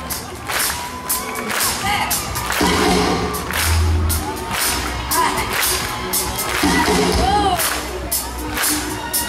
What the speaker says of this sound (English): Just clap it.